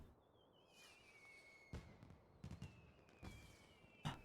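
Fireworks in the video game Final Fantasy XIV: a few whistling rockets rise, followed by scattered pops and crackling bursts at moderate distance, fairly quiet overall.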